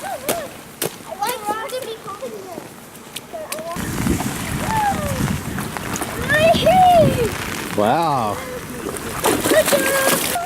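Children splash and stomp through a rain puddle in Kolob Canyon, with wet sloshing and spattering under loud, excited voices that talk and squeal throughout.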